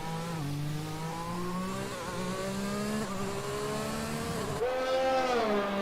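An F1 car in the F1 2020 video game rounds the final corner, its engine a steady high whine that dips and then climbs again as it accelerates out, loud and continuous throughout.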